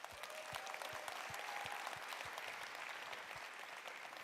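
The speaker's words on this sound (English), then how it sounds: "So to you, round of applause," Applause from a room of real-estate brokerage attendees, a continuous crackle of many hands clapping, faint and somewhat distant, with a few sharper claps standing out.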